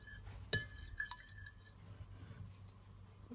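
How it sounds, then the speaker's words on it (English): Milk and egg are stirred in a container for plantain French toast; one sharp clink opens it, followed by light tapping and soft swishing that fades, quiet and close. "I'm gonna pour my milk in my container. And my egg. Let's give it a stir."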